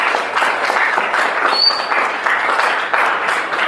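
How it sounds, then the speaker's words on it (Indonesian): Grade 11 students in a classroom giving a round of applause during a maths lesson: a continuous, fairly loud wash of clapping from many hands, steady throughout with no talk over it. "terima kasih dan tepuk tangan untuk kelas 11 ya"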